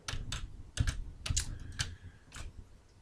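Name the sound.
clicking keys on a computer keyboard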